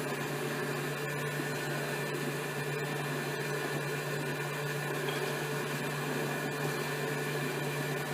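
A stand mixer creams butter with white sugar, running as a steady, loud motor whir with a constant hum and slight mechanical rattle throughout, uninterrupted and without talk.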